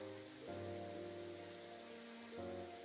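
Rain begins falling in the video game Psychedelica of the Black Butterfly, a faint hiss of drops under sustained tonal background music with no voices.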